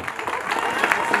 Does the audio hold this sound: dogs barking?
no